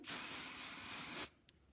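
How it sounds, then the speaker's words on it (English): A single steady hiss of hairspray from an aerosol can on a gymnastics meet hair bun, close and loud for about a second, then cutting off abruptly into near silence. "You can never use enough hairspray."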